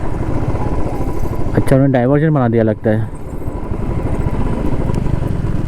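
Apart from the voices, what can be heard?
motorcycle engine riding on a road near the border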